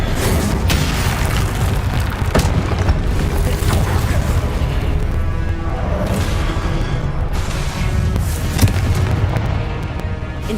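Repeated Confringo spell blasts in Hogwarts Legacy, explosive booms and crackling bursts layered over a constant loud rumble of combat, several sharp hits scattered across the stretch.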